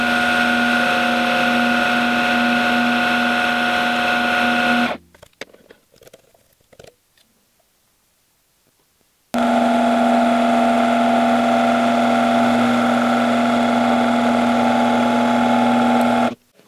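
A mini lathe hums steadily while cutting metal lubricated with oil, running loud for about five seconds and stopping for a quiet pause with small handling clicks. It then starts again and runs steady until it cuts off near the end.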